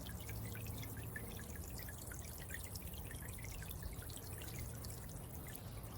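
A solar-powered DIY water pump fountain in an outdoor water feature trickles and drips steadily, a soft continuous patter of small droplets splashing into water, close and gentle with no voices.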